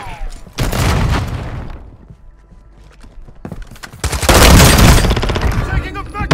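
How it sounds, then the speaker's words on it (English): Bursts of heavy gunfire in Warzone 2, loud rapid volleys near the start and again in the second half with a quieter gap between, game voice callouts mixed in. "Taking effective fire!"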